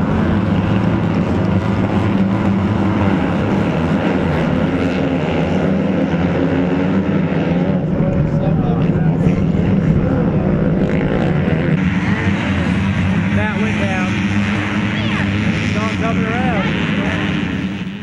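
A pack of 125B class motocross bikes races around a dirt track, a dense, continuous engine drone with shifting revs, loud and steady throughout.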